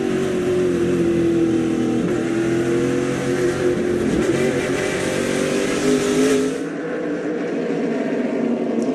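SRX stock-style race cars at Berlin Raceway roar loudly through a corner under gentle throttle, a dense engine drone with rising and falling pitch that drops off abruptly near the end.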